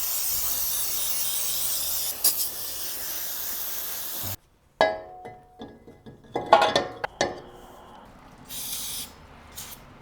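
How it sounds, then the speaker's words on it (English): Brake cleaner hisses from an aerosol can onto a brake rotor in one long loud spray that stops abruptly, followed by a few short sprays, clinks and handling noises nearby. "So use more of our brake clean here."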